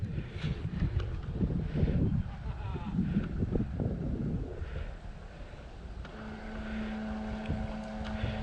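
A Phantom Modern GPS bait boat motors across the water toward a waypoint, a steady low motor drone and water wash heard up close, with a faint steady hum joining in near the end.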